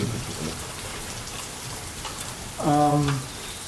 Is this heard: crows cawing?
no